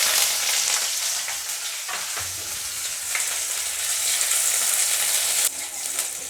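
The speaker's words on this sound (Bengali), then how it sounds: "এখন আমি পেঁয়াজটা দিয়ে দিলাম।" Onion hits hot oil already fried with panch phoron and chillies for a banana-stem stir-fry, giving a lively continuous sizzle, with crackles and scraping stir strokes of a utensil in the pan.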